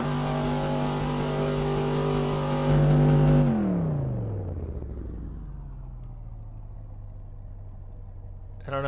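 Car engine in Assetto Corsa being drifted on a controller: a loud, steady high-revving drone that rises briefly, then drops as the revs wind down to a lower hum, with a sharp rev returning at the end.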